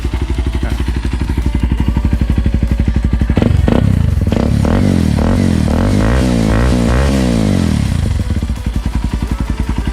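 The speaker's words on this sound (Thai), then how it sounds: "เสียงเครื่อง ไม่กระตุกไม่อะไรเลยนะครับเสียงเครื่องรอบเดินเบาปกตินะครับ" A Kawasaki KLX 230 dirt bike engine from 2021 idles with a steady rapid putter, then revs up and down in several quick blips before settling back.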